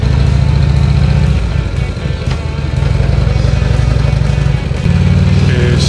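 A motorcycle engine drones loud and close while riding along a road toward Shiofune Kannon temple in Ome, Tokyo, with a steady rumble and a brief dip in revs midway.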